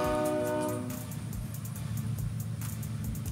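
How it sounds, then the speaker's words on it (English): A train rolls past close by, a horn-like harmonic tone fading in the first second before a steady low rumble and rattle of cars continues throughout. "My apologies for the train."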